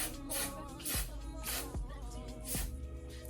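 Hairspray is sprayed onto big springy curls in several short hissing bursts, close to the microphone, with steady background noise between sprays.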